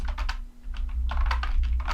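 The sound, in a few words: typing on N-ntus wireless membrane keyboard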